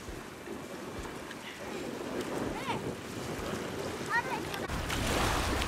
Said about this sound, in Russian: Море, море! Море, море!